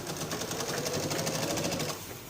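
A brief, close run of a sewing machine stitching a bias strip onto a frock neckline, producing a steady rapid needle chatter that eases off at the end.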